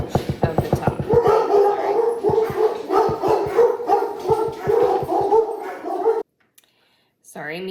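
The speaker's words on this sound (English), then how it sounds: "me tapping that on the bottom apparently made my dogs think someone was at the door" Several household dogs barking and howling together indoors in a loud, rapid run of yelps that settles into sustained, wavering howls, then cuts off abruptly before a short final yelp.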